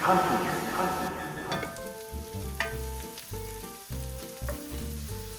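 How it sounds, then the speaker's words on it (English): Pork shoulder meat sears in a hot pan with a loud, close, crackling sizzle that eases slightly over a few seconds, broken by occasional knocks of a utensil. "So you don't want to cook it through, you just want to sear it off."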